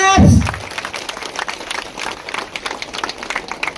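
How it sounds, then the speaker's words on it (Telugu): A burst of clapping from a crowd of women's self-help group members welcoming an MLA at a public meeting, fairly brief, then fading under a busy room with scattered voices and noise. "గట్టిగా క్లాప్స్ క్లాప్స్"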